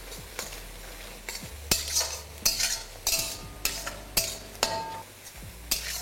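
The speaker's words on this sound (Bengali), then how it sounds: "এবার এই পেঁয়াজটাকে আমি ততক্ষণ ভাজবো যতক্ষণ না পেঁয়াজটা একদম লাল লাল হয়ে ভাজা হয়ে যাচ্ছে" Onions frying in mustard oil in a pan, a steady sizzle broken by repeated scrapes and clinks as a utensil stirs them, the strokes coming every half second or so, close and alone with no voices.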